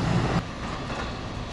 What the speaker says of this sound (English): And now the train is off.